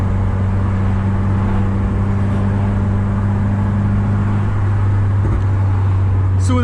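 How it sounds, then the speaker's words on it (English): A tuned 2015 Subaru WRX with the FA20DIT turbo engine hums steadily from inside the cabin while driving, a constant low drone with wind noise and a brief sharper whir near the end. "I'm hoping you guys can get a good feeling of what the car sounds like."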